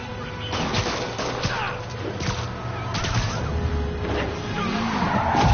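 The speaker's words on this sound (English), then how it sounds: "Yeah, that's a high-speed car chase, all right." Stolen getaway car in a high-speed chase in Marvel's Spider-Man, with tires skidding, impacts and crashes, and scattered bangs over a constant rumble of traffic and engines.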